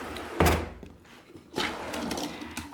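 A makeup palette drawer in a vanity setup makes a sharp wooden thunk, then after a pause a second sliding bump and rumble as it moves open or shut, close by with no talking.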